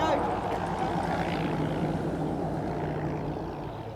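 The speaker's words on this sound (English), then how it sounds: "I saw a plane taxiing" A propeller plane taxis at an RAF base, its engine drone steady and moderately distant, loudest at the start and easing slightly toward the end.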